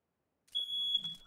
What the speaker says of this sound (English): You set off the fucking smoke alarm!